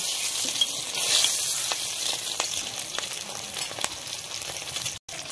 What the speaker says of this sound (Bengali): ডিমগুলো দিয়ে দিব।